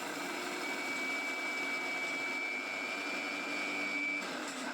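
A mixer grinder spins at full speed powdering a cup of sugar for a no-oven Oreo cake, a loud constant whirring roar close by throughout.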